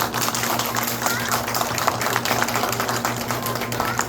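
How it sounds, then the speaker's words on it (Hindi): Audience applause at a Pakistan Independence Day celebration in Madonna Hall, Malta, a dense steady wash of clapping over a low hum, sustained throughout. "जोरदार तालियां।"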